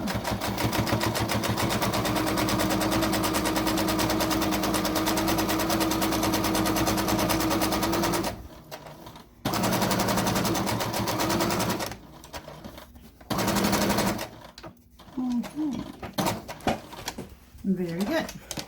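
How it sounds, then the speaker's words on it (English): A sewing machine stitches a casing along the fold of a fabric plastic bag holder, running in long rapid bursts of fast ticking whir with short pauses between runs and some quiet handling noise. "So we're going to take this to the machine and put stitching all the way down"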